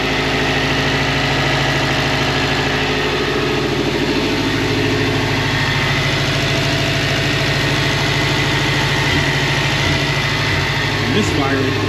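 A Subaru STi engine idles roughly and misfires, a loud, continuous low rumble with an uneven pulsing beat. A voice speaks briefly over it.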